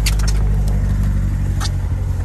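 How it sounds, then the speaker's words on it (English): A 2014 Chevrolet Corvette Stingray Z51 engine runs smoothly at a steady idle, a close, even low rumble with no voices over it. "You can hear that engine running smooth."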